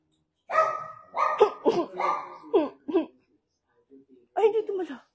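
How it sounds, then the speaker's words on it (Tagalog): A dog barks in a quick run of sharp yaps close by, then pauses before another short burst, with some human vocal sounds mixed in. "Namamaya pa itong asong ito."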